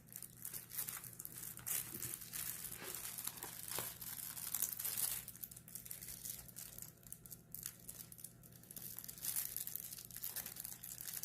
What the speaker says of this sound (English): let me see if I can figure out how to get the plastic off to work on it